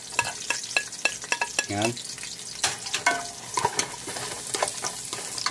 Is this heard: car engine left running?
no